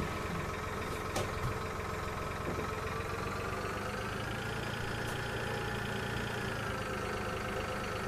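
A tractor engine runs in the Farming Simulator 2013 video game, a continuous, even mid-to-low drone at idle with no talk over it.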